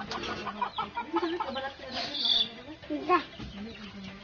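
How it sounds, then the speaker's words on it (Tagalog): A chicken clucks repeatedly and loudly nearby in a mountain setting, its short squawking calls mixed with people talking. "Ang ingay ng manok, kak ng kak."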